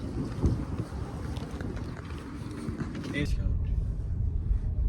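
Strong wind buffets the microphone with a low, rumbling roar that swells louder toward the end, while a voice talks over it.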